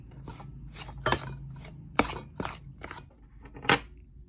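Flour batter for Thai ba bin coconut dessert stirred by hand in a bowl, heard as a few sharp, irregular clinks and scrapes of utensil against the bowl, close and fairly quiet, with no talk.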